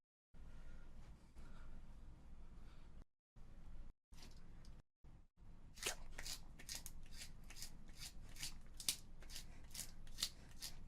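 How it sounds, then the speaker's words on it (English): Repeated sharp scraping strokes of a pencil being sharpened at speed in a world record attempt, quiet at first with brief gaps, then a rapid rhythmic series of crisp bursts. "World record pencil sharpening."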